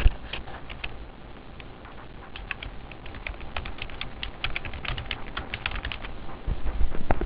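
Fingers type on a computer keyboard in quick irregular bursts of clicks, fairly close and clear, with quiet pauses between runs and no talking.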